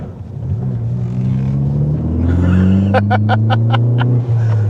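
A Ford Focus ST hot hatch is driven hard through a corner in an empty industrial park. The engine drones loudly and climbs steadily in pitch, with a rapid series of sharp clicks or pops partway through.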